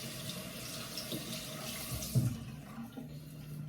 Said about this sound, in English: So just gonna get some warm water up on the face here.